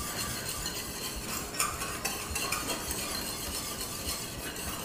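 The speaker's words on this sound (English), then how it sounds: "the orange glaze is just approaching a boil now, so I'm going to start whisking that again for a few minutes" Orange glaze with ginger nearing a boil in a pan, whisked steadily with light metallic clinks and a soft bubbling hiss, close and fairly quiet, with no talk.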